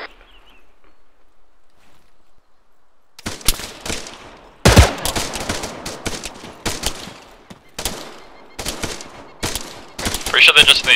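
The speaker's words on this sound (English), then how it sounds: "Taking fire. Contact front." Bursts of automatic gunfire and scattered rifle shots in a military shooter video game, starting after a quiet stretch and continuing in ragged, uneven volleys at close to mid range, with occasional voices over the shooting.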